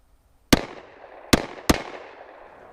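Three sharp gunshots from a Sig P365 pistol ring out alone, the first standing apart and the last two in quick succession, each loud and close with a short decaying tail.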